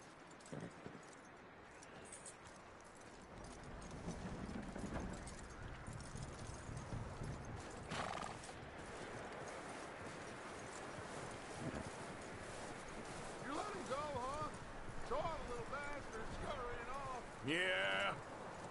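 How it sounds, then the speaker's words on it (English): In a video game, a horse's hooves clip-clop steadily on the ground, with occasional snorts, a brief whinny near the end and someone talking over the soundtrack. "That looks like a decent horse."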